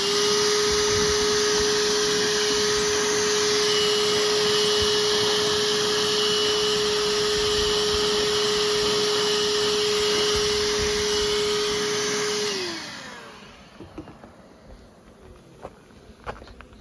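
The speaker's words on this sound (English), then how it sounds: "We're using our bee vacuum." A loud, steady bee vacuum motor whines with a constant tone for about twelve seconds while capturing bees into a jar, then winds down and cuts off, leaving quiet handling noises and faint clicks.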